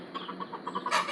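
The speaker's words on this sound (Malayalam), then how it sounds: "ഞങ്ങളെ പൂവൻകോഴിയാണ് ഇത്" A white rooster at home gives a quick run of short, rhythmic clucks, close and fairly loud, ending in a brief sharper call.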